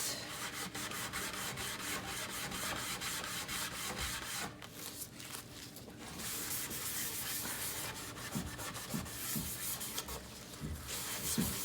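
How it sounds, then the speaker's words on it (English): Gel stain is rubbed into a wooden kitchen cabinet door with continuous close scrubbing and rubbing strokes. A few short pauses and uneven bursts break the steady texture. "So keep rubbing it out."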